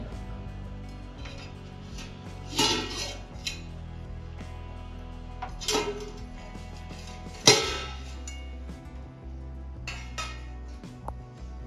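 A lid is lifted off a pot of steamed Bengali bhapa doi (sweet yogurt dessert) in a home kitchen, giving a few sharp metallic clinks and knocks spread over a steady low background hum.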